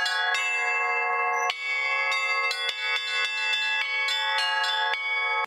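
Church bells of the Zashiversk church belfry ring out loud and close in a rhythmic peal, several bells struck in sequence with long ringing overtones and no voices.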